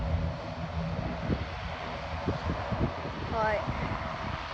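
An Aer Lingus ATR-72-500 turboprop taking off, a steady broad engine and propeller roar that stays fairly loud throughout, with a person briefly speaking over it.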